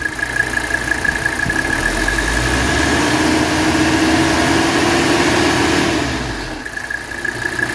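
A 1983 Mercedes 300SD diesel engine idles steadily with its oil filler cap removed, a loud, even clatter and hum held close for the whole stretch, easing slightly near the end.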